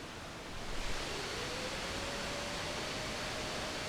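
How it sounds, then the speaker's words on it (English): Erica Synths Fusionbox synthesizer with its valve overdrive engaged, producing a dense, even wash of hissy broadband noise with a faint rising tone, steady and alone throughout. "So that's the sound of the overdrive, which is the valve."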